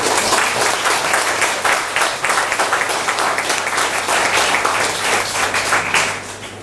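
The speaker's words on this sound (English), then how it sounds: "you can give him another round of applause" An audience at a town hall meeting in Carriacou applauds steadily with dense, loud clapping that fades slightly at the very end.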